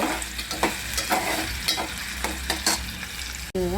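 Sliced potatoes fry loudly in a pan for onion poha, a close, constant sizzle broken by regular scraping stirs of a spatula, with a brief clatter near the end.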